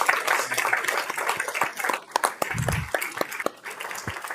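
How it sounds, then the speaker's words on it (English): Moderate applause in a county commissioners' courtroom meeting, a smaller group clapping unevenly with some sharp individual claps and brief lulls, fairly close. "Let's give these folks a round of applause."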